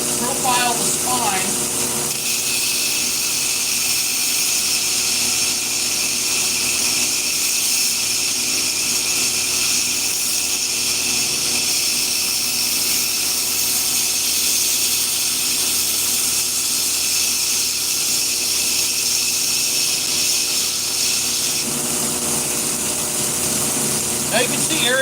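A power grinder profiling the spine of a knife blade in a bladesmith's shop, a loud continuous whine and rasp of metal grinding that holds steady for the whole stretch without pause.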